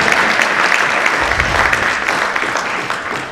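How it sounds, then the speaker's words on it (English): Loud, sustained applause fills a crowded education conference hall, many hands clapping in a dense, continuous patter that slowly tapers off toward the end. "Give me a clap for that."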